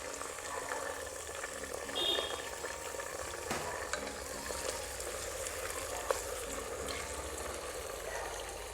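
Onions and tomatoes fry in a pan for a pigeon-pea pulao, a steady soft sizzle with a few faint stirring clicks, close and even throughout.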